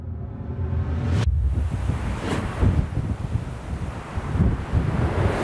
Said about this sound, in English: Literally 35 mile hour straight winds right now with 40 mile hour gusts